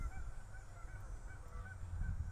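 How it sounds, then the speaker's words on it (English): Geese honk in the distance behind a garden setting, repeated short calls scattered through a steady wind-like outdoor wash, faint and never close. "You might be able to hear the geese in the background."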